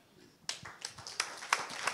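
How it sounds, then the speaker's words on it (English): Applause from the audience at a public lecture, starting suddenly as scattered, distinct claps that come in uneven bursts, moderately close, with faint voices underneath. "A wonderful round of applause."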